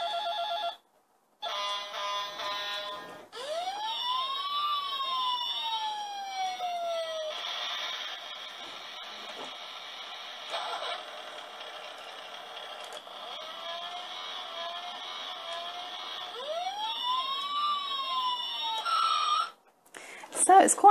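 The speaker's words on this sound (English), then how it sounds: "it's quite a lively fire engine with all of those lights and sounds there going on" ELC toy fire engine plays an electronic wailing siren with rising and falling tones and bell-like beeps, nearby and fairly loud, starting and stopping in bursts; someone talks briefly between them.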